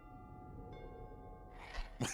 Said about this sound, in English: One of the actual first stick-built house that I purchased had the doorbell that did that